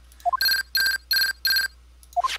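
A transceiver rings in the Phoenix Wright: Justice for All video game, giving four evenly spaced electronic ringtone bursts framed by short rising chime blips, crisp and loud with no talk.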